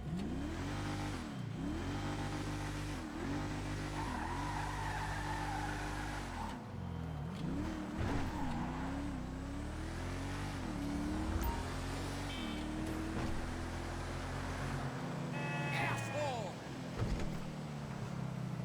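An Enus Cognoscenti 55 Armored sedan engine in GTA Online revs up and down repeatedly, rising and falling in pitch, then settles into a steady drone. The sound is close and moderately loud.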